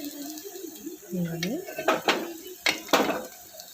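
Raw mango pieces tumble into a metal cooking pot of onion curry, giving several sharp clatters and knocks of pieces and a spoon against the pot, close by, with a voice briefly audible around them.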